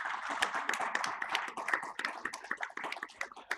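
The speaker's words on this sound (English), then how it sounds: "Can you give a big round of applause to yourself first?" A conference audience at a fireside chat on sustainable sourcing claps in a brisk, scattered round of applause, fairly soft and steady throughout.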